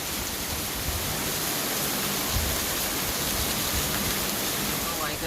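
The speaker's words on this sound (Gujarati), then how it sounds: "વરસાદ ફૂલ ચાલુ થઈ ગયો છે જમાવટવાળો" Heavy downpour in Junagadh, a dense, steady roar of rain filling the whole stretch at an even level, close and continuous with no pauses.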